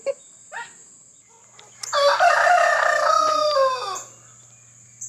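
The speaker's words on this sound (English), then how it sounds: "Those roosters, they know when I'm about to talk." Roosters crowing outdoors in the morning, one long, loud, close cock-a-doodle-doo lasting about two seconds after a few faint calls, with a steady background hum throughout.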